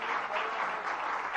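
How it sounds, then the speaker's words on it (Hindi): Short burst of audience applause at a religious question-and-answer gathering with a Jain monk, many hands clapping steadily and fairly close, with no speech over it. "जरा जोरदार तालियों के साथ"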